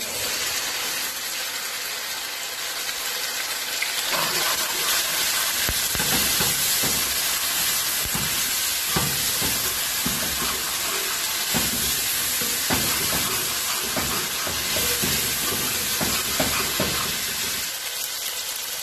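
A steady hiss of garlic ginger paste frying in a pan with golden onions, with crackling sizzles and occasional scraping or stirring sounds, continuous and close.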